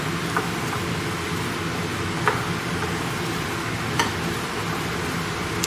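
Veg burger tikki dough being mixed with cornflour, a soft steady crumbly stirring and rustling texture that continues throughout, with a few faint sharp ticks of a spoon along the way.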